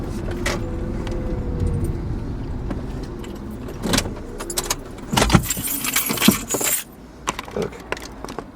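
A car pulls into a parking spot at a New Zealand police station, its engine rumbling low and steady before keys jangle loudly near the end as the vehicle settles.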